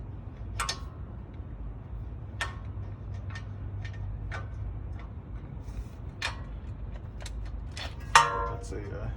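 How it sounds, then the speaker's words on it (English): A wrench tightens a strut bolt on a 2013-2018 Acura RDX, giving a series of sharp ratcheting ticks and metallic clicks spaced irregularly over steady low background hum, close and fairly distinct. "Tighten that up. Using one of these, wrench."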